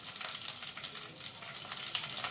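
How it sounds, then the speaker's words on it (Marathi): Spices, a pinch of asafoetida and red chilli powder, frying in hot oil for fried rice, a steady bright sizzle with faint crackles and no voices. "सगळं व्यवस्थितपणे फ्राय करून घ्यायचं आहे"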